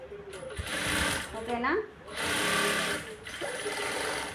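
A sewing machine stitches a blouse, its steady whirring hum running in two long bursts with a short pause between, close by, while someone speaks over it.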